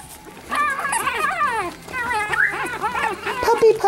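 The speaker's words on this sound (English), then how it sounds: "Hello, pretty little puppies." Young puppies whimper and yip in quick, high, wavering cries near the listener, with a brief lull before they start again.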